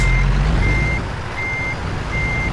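A truck reversing in American Truck Simulator gives three steady, evenly spaced high beeps over a loud, constant engine rumble, close and alone with no talk.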